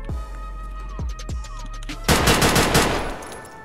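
Gunfire in Escape from Tarkov on the Factory map: a few sharp single shots, then a sustained loud burst of rapid automatic fire emptying a magazine, close and dense.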